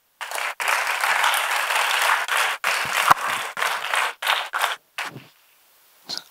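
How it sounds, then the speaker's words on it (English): An auditorium audience applauds in a steady, broadband burst of clapping that breaks into several short surges, then dies out, with a brief final patter near the end. "Let us welcome them with a huge round of applause."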